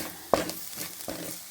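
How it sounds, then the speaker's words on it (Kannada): Ground green chili powder, turmeric and garam masala fry in a pan for butter paneer, giving a soft sizzle with a sharp clatter as the spices go in and a second stir shortly after. "ಹಸಿಮೆಣ್ಸಿನ್ಕಾಯಿ ಪುಡಿ, ಟರ್ಮರಿಕ್ಕು, ಗರಂ ಮಸಾಲ ಹಾಕ್ಕೊಂಡು ಫ್ರೈ ಮಾಡ್ಕೊಳ್ಳೋಣ"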